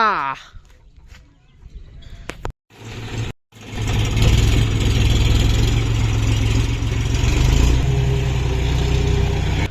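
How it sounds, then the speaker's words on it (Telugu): A loud tractor engine idles and rumbles steadily after a few clicks and brief pauses, with a low, continuous drone throughout. "ఫస్ట్ ట్రాక్టర్ నడుపుతున్నాడు"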